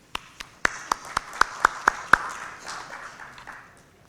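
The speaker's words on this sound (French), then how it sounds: "On applaudit Monsieur Karim" Scattered claps at a French-language development conference, about eight distinct sharp hand claps in an uneven rhythm that thin out into a fading murmur of room noise.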